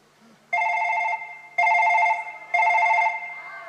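A telephone rings three times in steady, evenly spaced electronic bursts, each loud and clear with short pauses between, with no one talking over it.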